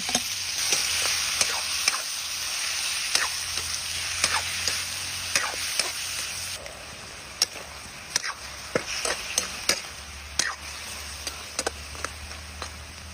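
Pork frying in a pan with a continuous sizzle, broken by repeated sharp scrapes and clacks from a utensil stirring it, close and without voices.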